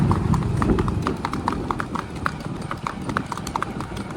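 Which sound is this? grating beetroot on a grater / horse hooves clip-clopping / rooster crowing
horse hooves clip-clopping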